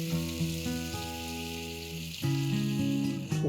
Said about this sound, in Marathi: अशाच प्रकारे सगळी आपण उपवासाची धिरडी तयार करून घेऊया.